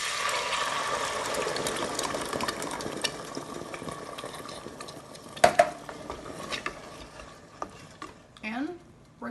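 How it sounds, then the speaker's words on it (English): Crushed tomatoes go into a pan for a spaghetti and turkey meatball sauce: steady wet scraping and stirring with light metal clinks, a sharp clank partway through, and a brief rising scrape near the end. "now we're going to add the crushed tomatoes"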